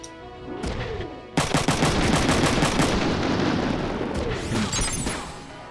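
Sustained automatic gunfire from mechs in Front Mission 3, loud, dense rapid bursts that start abruptly after a quieter opening and keep going with booming impacts until near the end.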